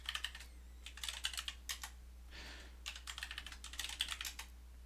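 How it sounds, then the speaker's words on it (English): Bursts of rapid key clicks on a computer keyboard as a new password is typed, close and quiet, with a brief pause midway. "type the new password"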